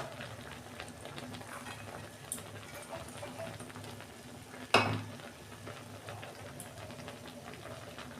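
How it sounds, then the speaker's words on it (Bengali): Soaked chickpeas go into a pan and get stirred, giving a quiet continuous frying sizzle with soft scraping and one sharp clatter midway, no voices. "এই যে ছোলা ভিজিয়ে রেখেছিলাম, ছোলাটা আমি দিয়ে দিচ্ছি"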